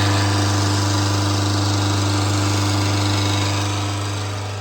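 Loud, steady car engine idle during a diesel particulate filter regeneration, with a constant low hum and vibration, droning evenly throughout and tapering slightly at the end.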